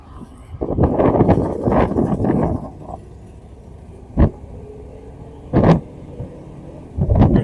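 A 1978 Excalibur Phaeton Series III with a 454 engine drives along as it shifts gears. Engine roar swells for the first few seconds, then eases into a quieter run, with short surges of sound at each shift.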